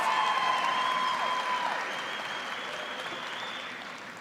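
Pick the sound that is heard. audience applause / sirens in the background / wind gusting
audience applause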